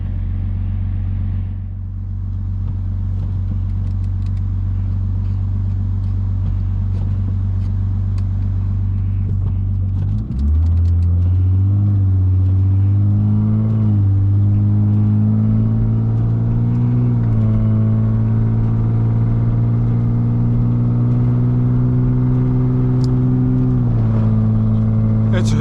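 A Lexus IS250 with a P0420 catalytic converter fault drives through a snowstorm, its engine droning steadily inside the cabin, then revving up and shifting as speed builds, with no talk over it.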